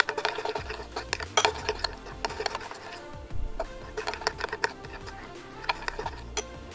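A utensil stirs a homemade glue-free slime mixture with salt added in a container, giving irregular clicks and scraping taps in quick bursts over a soft, wet background, close and fairly clear, with no talking.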